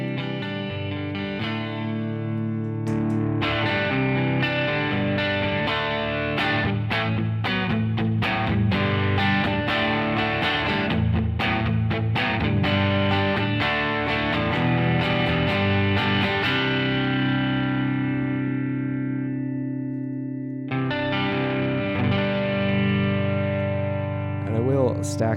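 A heavily overdriven electric guitar plays sustained chords and quick choppy strums, gritty and loud, with a short pause before the chords ring out again.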